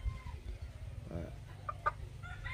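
A five-month-old Polish breed rooster in a farmyard gives a few soft, low clucks over a constant background hum, with faint chirps from other birds nearby.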